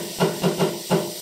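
Onions sautéing in a pot for stew, a steady sizzling hiss with soft rhythmic swells, close and moderately loud, no talking.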